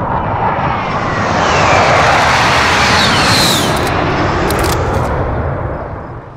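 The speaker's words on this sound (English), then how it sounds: "Be advised, friendly precision airstrike inbound." Aircraft roars overhead during a friendly precision airstrike in Call of Duty: Modern Warfare, a loud rushing engine swell that peaks midway and fades as it passes.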